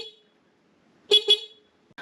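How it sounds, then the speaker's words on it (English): Honda Grom MSX-125 horn on its standard bracket giving two short, close, bright honks in quick succession, with a faint toot at the start and a brief blip at the end. "the horn sounds like this."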